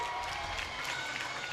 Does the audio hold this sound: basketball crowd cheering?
yes